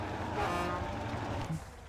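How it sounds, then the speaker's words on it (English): A heavy off-road truck in the MudRunner game sounds its horn in a short celebratory toot over a low rumbling engine, fairly faint in the mix. "Victory honks."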